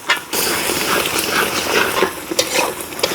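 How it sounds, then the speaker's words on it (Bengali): Spice paste with onion and garlic being stir-fried for a fish curry, a steady loud sizzle with repeated scraping and stirring strokes against the pan, no voices. "মাছ ভুনা করতে মশলাটা ভালোভাবে কষাই নিব"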